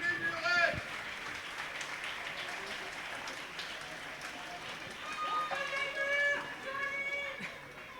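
Crowd at a roller derby bout clapping for the referees, scattered applause under an announcer's talk and arena noise, with whistles and shouts rising later.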